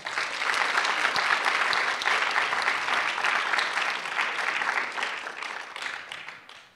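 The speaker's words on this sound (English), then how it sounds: "let's give all of the students a big round of applause" Audience applause for students at a county speech festival awards ceremony, a dense, sustained crowd clapping that starts strongly, holds steady, then gradually tapers off toward the end.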